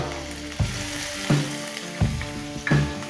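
Onion, ginger, green chili and garlic sautéing in a little oil in a pan, a loud continuous sizzle broken by four regular spoon scrapes and knocks as the mixture is stirred.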